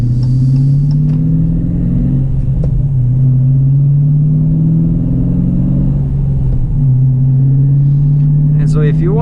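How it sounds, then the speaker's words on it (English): A 2018 Dodge Challenger R/T 392 Scat Pack with a 6.4-liter Hemi and an Airaid cold air intake sits near at idle, its deep steady rumble rising in brief revs, while someone talks over it. "I can hear the sound, you know, like the intake, so kind of like whistling,"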